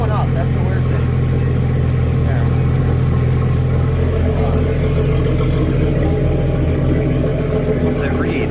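A 1998 Jeep Cherokee engine runs close by with a steady, loud idle rumble as it is revved during an alternator check, the rev rising only slightly, with someone talking over it.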